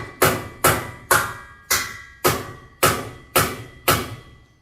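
Eight sharp hammer blows strike at a steady, evenly spaced rhythm, each loud and close with a short ringing decay, as something is driven in without going in.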